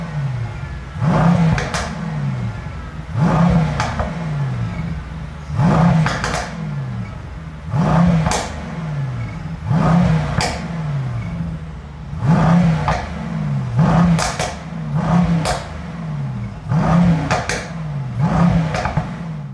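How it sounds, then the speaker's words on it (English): A loud 2021 Mercedes-AMG E63 S engine revs repeatedly in race mode in regular bursts, each rise followed by sharp crackling pops and bangs as the revs drop. "Let's put it in race and we'll give it some revs."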